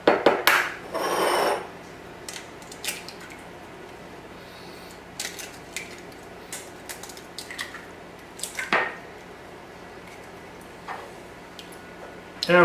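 Eggs cracked open by hand for a sponge cake, sharp scattered taps and clicks of shells against a bowl edge, spaced irregularly with quiet gaps between and a few louder knocks, no talk.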